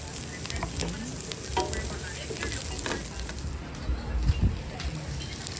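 Garlic and onion frying in a pan for sopas, a steady busy sizzle with stirring scrapes close up, continuing throughout.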